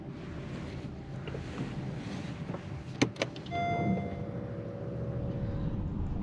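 A GAC Honda Everus VE-1 electric car gives off motor noise while driving, a steady low rumble with wind noise, a couple of sharp clicks midway and then a thin whine that holds on for several seconds.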